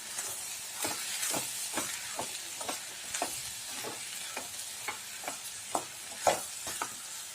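Roasted peanut powder is stirred into a drumstick leaf and karamani poriyal in a pan, producing a quiet hiss with a rhythmic series of spoon scrapes and taps, and no talking.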